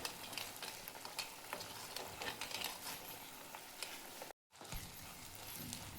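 Masala paste roasts in hot oil, sizzling and frying steadily up close while a utensil stirs it, with a brief silent gap partway through.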